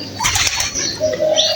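Pigeons coo close by as they peck at rice grits, short throaty calls rising over faint rustling from the flock.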